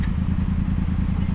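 A learner motorcyclist on a third ride out pulls away, the engine chugging at low revs with a steady loping idle pulse and some mechanical clatter, close and continuous, with no talk.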